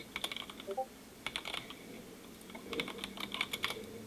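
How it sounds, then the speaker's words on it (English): Computer keyboard typing picked up on a nearby mic during a VR esports match cast, coming in bursts of quick clicky keystrokes with short pauses between runs, fairly loud against a quiet room. "that typing's gonna be loud"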